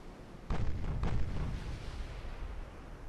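Battleship main guns firing salvos in the naval game Ultimate Admiral, a heavy boom arriving suddenly and then a long rumbling roll that slowly fades.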